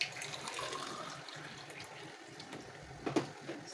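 Hot water splashing and trickling into a pot of rice, a steady wash of water noise that ends in a few louder splashes near the close.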